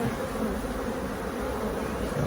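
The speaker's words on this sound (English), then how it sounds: "Got quite a lot of bees in here with pollen" Continuous low buzzing of many honeybees close by, a dense steady hum with no voices.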